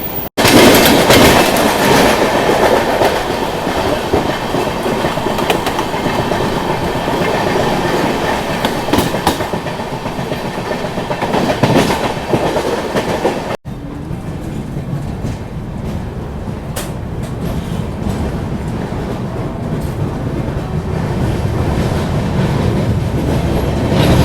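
A Bikaner–Mumbai Ranakpur Express running on Western Railway tracks into Mumbai, a loud, continuous rolling roar with clickety-clack of wheels over rail joints, heard from aboard the train, dropping briefly midway before carrying on steadily.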